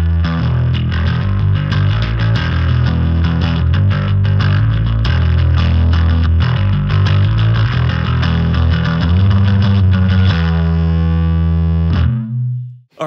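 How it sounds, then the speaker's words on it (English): Bass guitar played through a Fender Rumble LT25 amp set to a dirty, distorted 70s-style tone, a thick, gritty run of picked notes for about twelve seconds before a final note rings out and cuts off. "I thought I'd dial up a sound, something a little dirtier, something that kind of echoes more kind of aggressive music of the 70s."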